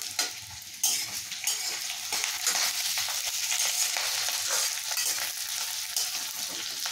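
Onions frying in a pan for chili chicken fried rice, a loud continuous sizzle close by with occasional scrapes and clinks from stirring and no voices.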